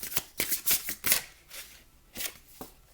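Tarot cards are shuffled by hand in quick, close riffling bursts, a cluster of rapid flicks followed by a pause and a few more, soft and crisp with no talking.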